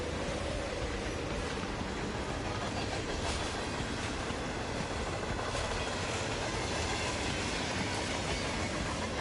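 A moving train rumbles in the video game Hitman 3, a dense, steady roar of wheels and carriage noise filling the whole stretch at an even level, with faint rhythmic clatter and no talking.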